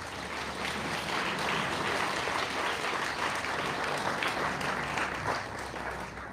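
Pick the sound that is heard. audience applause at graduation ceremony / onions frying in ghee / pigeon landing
audience applause at graduation ceremony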